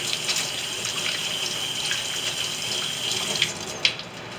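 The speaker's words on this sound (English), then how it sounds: "I had to wash my hands real quick." A kitchen faucet runs steadily into a sink while hands are washed, with a constant close hiss of flowing water and a few small splashes near the end.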